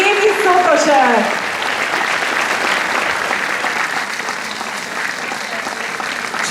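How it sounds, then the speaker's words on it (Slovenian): A concert audience breaks into loud, sustained clapping that starts strong with a brief voice over it, then settles into steady applause for several seconds. "Zaploskajmo še Jaki Sotošku in Evi Sotošek."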